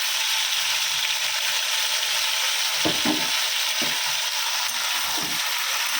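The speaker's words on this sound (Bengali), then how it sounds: "সবজিটা বসিয়ে দিয়েছি, একটু ভাজা ভাজা হোক আর মাছটা ভাজা হোক" Vegetables and fish fry in a pan, a steady bright sizzle with a few soft stirring knocks near the middle.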